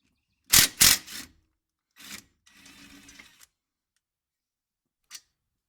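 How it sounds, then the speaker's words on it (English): A hand tool works two 15mm caliper bracket bolts loose on a 2004 Ford Mustang front brake: two close, loud metallic clicks, then a shorter click, a brief scraping rattle and one faint final tick, with quiet gaps between. "remove these two 15mm bolts right here that hold the caliper bracket in place"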